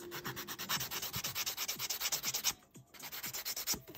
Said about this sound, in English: all you do is you get the sanding stick, like that